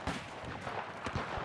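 Gunfire in the World War I shooter Battlefield 1, heard as faint, distant shots: a few sharp cracks and booms over a steady battlefield rumble, with no voices.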